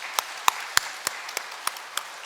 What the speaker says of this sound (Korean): 우리 2025년도 권사님들, 집사님들 크게 격려하며 박수하시겠습니다.